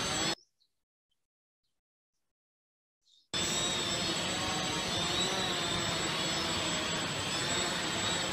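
Side-mounted engines on a semi-rigid model airship from a student lab project run with a loud, steady, high-pitched whine. The whine is present briefly at the start, stops for about three seconds of silence, then resumes and holds constant.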